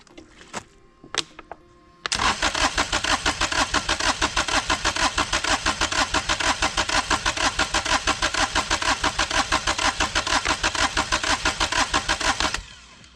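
An old runaway-prone diesel engine with rusty valve lifters is cranked by the starter after a couple of knocks, a loud, close, rapid rhythmic churning that runs for about ten seconds without catching, then stops.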